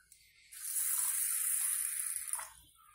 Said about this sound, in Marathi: आता आपल्याला डाळ स्वच्छ धुऊन पाण्याने धुवून घ्यायची आहे